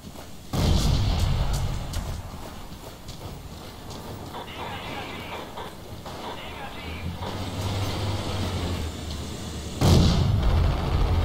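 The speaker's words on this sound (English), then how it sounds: "Nice if people could stop shooting at me from different directions." Gunfire and artillery in the World War II shooter Forgotten Hope 2 around Pegasus Bridge: a loud burst opens, followed by steady mid-distance battle rumble with scattered shots, and another sharp loud blast near the end.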